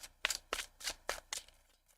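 Tarot cards are shuffled by hand in a run of about six quick, crisp riffling bursts, close and clear, with no talking.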